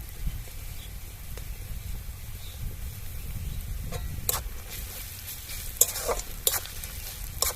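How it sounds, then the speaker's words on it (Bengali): Onions frying with ginger and garlic paste in a clay pot for duck curry: a steady low sizzle runs throughout, with a few sharp scraping stirs toward the end, close and moderately loud. "আদা রসুন দিয়ে আমি আবার দু মিনিটের মতন ভালো করে ভেজে নেব"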